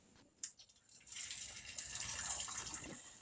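Hot water pours steadily over canning lids in a pot, starting with a faint clink and then building into a continuous close splashing stream for a few seconds.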